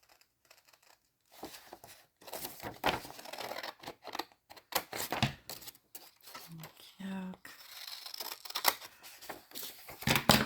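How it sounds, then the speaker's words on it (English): Scissors snip along the edge of a paper birdhouse cutout for a handmade rainbow-paper journal, heard as soft rapid cutting and paper rustles close by, mixed in with a woman's speech. "get up here to this birdhouse and cut right along the edge of it."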